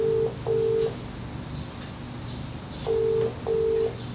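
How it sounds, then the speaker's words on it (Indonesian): Telephone dialing tones for a phone call into a live broadcast: four steady beeps in two pairs, one pair at the start and one near the end, with a quiet gap of line hiss between them and no talking. "kita nanti akan coba sambungkan melalui sambungan telepon"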